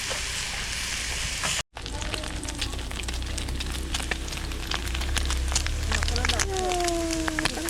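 Thin slices of pork belly fry in a pan at a Spanish campsite, a continuous crackling sizzle with dense pops throughout, briefly cut out once, and a voice speaks over the frying near the end.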